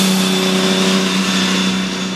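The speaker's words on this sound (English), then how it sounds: "1967 Lamborghini 400 GT 2 plus 2." A 1967 Lamborghini 400 GT 2+2 engine revving loud and close, holding a steady, dense mechanical drone with a strong low hum that barely changes over two seconds.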